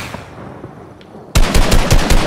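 Fortnite guards firing automatic weapons, a loud rapid burst of gunfire that starts abruptly after a quiet moment and rattles on to the end.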